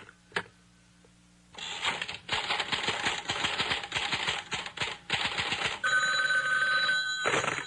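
A telephone rings in repeated loud bursts, each a rapid metallic rattle, separated by brief pauses and preceded by a single sharp click.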